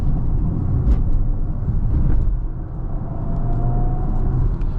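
A 2026 Audi Q3 S-Line Quattro in dynamic mode rounds a corner onto a highway, its cabin filled with a steady low engine and road rumble, fairly loud and with no voices.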